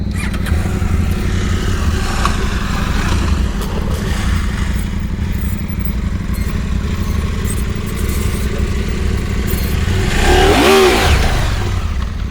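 An adventure motorcycle idles and putters at low speed off-road while the rider works the clutch and throttle, then near the end the engine revs up sharply in a close, loud burst before settling.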